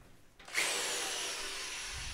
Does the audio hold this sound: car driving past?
no